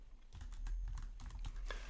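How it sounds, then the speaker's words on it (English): A computer keyboard being typed on, a quick run of light, irregular clicking keystrokes over a low background hum, close and fairly quiet, with no talking. "I can type in battery recondition"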